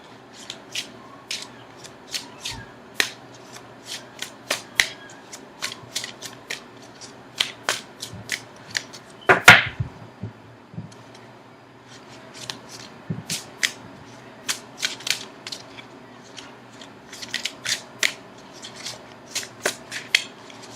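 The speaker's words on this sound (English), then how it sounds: "Okay, so now I'm going to shuffle for an outcome card." Tarot cards shuffled by hand in a quiet indoor setting, producing a steady run of crisp, close riffling snaps and soft rubbing, with one louder burst of handling midway and no speech.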